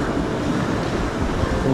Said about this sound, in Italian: dove c'è un bello sbruffo di sabbia, c'è molto vento